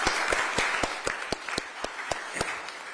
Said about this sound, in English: Can we please give them a round of applause and say thank you?